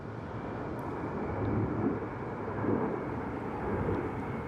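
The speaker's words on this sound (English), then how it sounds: "as the jet goes over" Jet aircraft passing overhead, a broad steady roar that swells gently in waves and holds throughout, with no other sound standing out.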